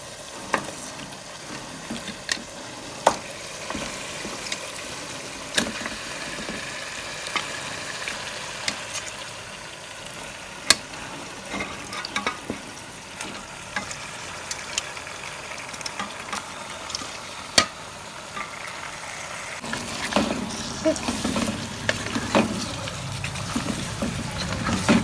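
Goose meat fries in a pan with ground spices, salt and a little water, giving a soft sizzle broken by scraping and clacking stirs; the frying swells into a louder, busier bubbling near the end.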